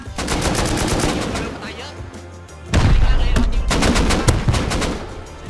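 Gunfire in the survival game Rust: dense bursts of rapid automatic shots with booming impacts that rise to a louder barrage partway through, while excited voices talk over them.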